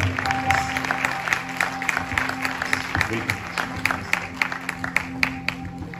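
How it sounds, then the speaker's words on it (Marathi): A church gathering at a Holy Fire festival in Ahmednagar breaks into audience applause, a dense run of claps from a crowd in a hall that lasts throughout, with some voices mixed in. "त्यांचं स्वागत करूया नगरच्या टाळ्या"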